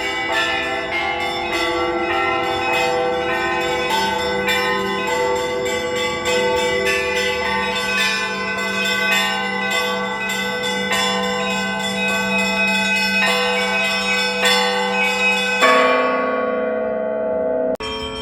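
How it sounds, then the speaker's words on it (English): Church bells ring in Moscow, a dense, resonant peal of many overlapping strikes with long ringing tones, loud and continuous, ending in one final sustained chime. "The sound of the bells you're hearing is real."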